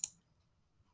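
A single short, sharp computer mouse click at the start, followed by near silence.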